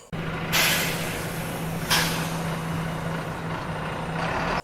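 A bus idles or moves nearby with a steady low engine tone. Two sharp bursts of air-brake hiss come early in the clip, and a fainter one comes near the end.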